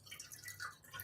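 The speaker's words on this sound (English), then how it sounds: "So I'm just going to pour in the water." Room temperature water poured into a flower vase, heard as faint, close dripping and light trickling splashes with no talk.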